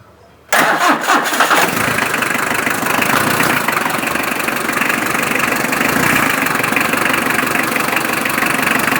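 A 1995 Hindustan Motors Contessa vintage diesel car engine cranks and catches after a short silence, then settles into a steady, loud, rough idle that continues without a break for the rest of the clip.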